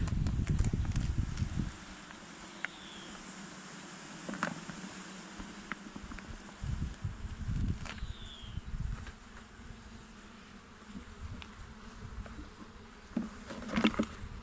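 Honeybees buzz steadily at close range during beekeeping hive work, with a low droning hum and occasional louder passes, some brief knocks and rustles mixed in.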